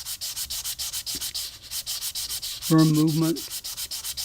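Clarinet reed rubbed back and forth on an abrasive surface, a fast, even series of close rasping strokes throughout, with a brief spoken word partway through.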